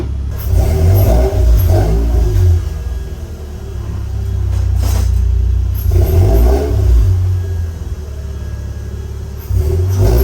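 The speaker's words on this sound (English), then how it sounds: "let's take it out for a drive" A Mazda RX-8 rotary engine, just fitted with an upgraded cooling system, revs loudly during a short drive, its deep drone rising and falling through several surges, close and continuous, with no talking.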